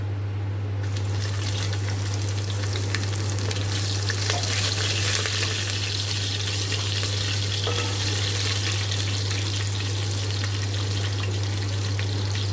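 Chopped garlic and chilies frying loudly in hot oil in a pan for kadhi, a steady close sizzle that bursts up at the start and continues without a break, with a low hum underneath.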